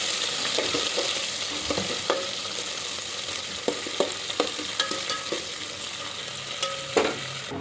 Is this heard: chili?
yes